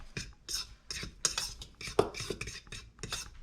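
A spoon stirs fish batter in a bowl, giving quiet, irregular clinks and scrapes in short bursts close by.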